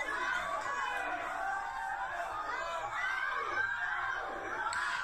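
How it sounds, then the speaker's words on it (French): Wrestling arena crowd chanting a drawn-out "aou aou aou" in unison, a distant, steady mass of voices with swelling vowel sounds and background chatter, fairly faint throughout. "Et la foule qui chante aou aou aou."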